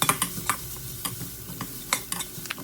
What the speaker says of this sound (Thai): ผัดพริกกระเทียมให้หอมนะครับ